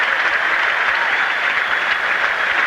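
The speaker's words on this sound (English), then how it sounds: "a thundering round of applause from the people here" A crowd applauds at a 1990 Commonwealth Games weightlifting contest in the +110 kg class. The clapping is dense, loud and sustained throughout.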